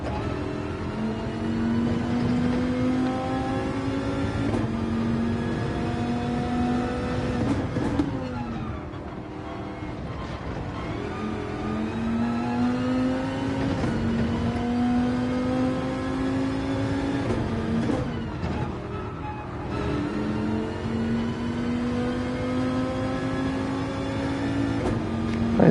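A Dodge Viper engine in Gran Turismo 7 revs hard with a loud, close, buzzing tone that climbs in pitch, drops back at each gear change and climbs again, repeating over a long run with no talking.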